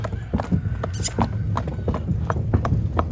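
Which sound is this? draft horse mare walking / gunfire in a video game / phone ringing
draft horse mare walking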